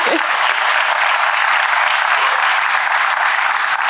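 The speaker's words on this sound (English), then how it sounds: "I think they deserve a round of applause." Sustained audience applause from a crowd at a women's leadership event, dense steady clapping that holds loud and even from start to finish without pause.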